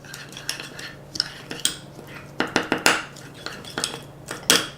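A utensil mixes olive oil into a blackening spice rub paste in a small bowl, producing close, irregular scraping clinks and taps against the dish that come in short bursts.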